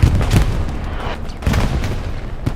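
Artillery fire in the video game Hell Let Loose on the Hürtgen map, a dense run of heavy booms and rumbling shell impacts rolling one into another, loud and continuous with sharper hits near the start and end.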